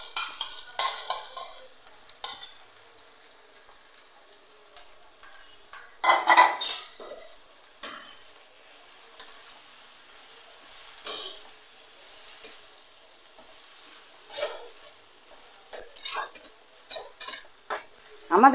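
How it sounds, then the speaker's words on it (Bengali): Bottle gourd greens and potatoes being stirred in a frying pan, intermittent metallic scrapes and clatter of a spatula against the pan with quiet gaps and a faint hiss between bursts. "আমি এবার লাউ শাক আর এই সবজি আলুগুলো সব দিয়ে দিচ্ছি"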